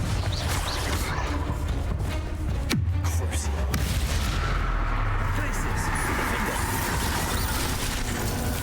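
Confringo explosive fire spells cast in the video game Hogwarts Legacy, dense booming blasts and crackling impacts layered over a constant loud combat roar, with a person talking throughout.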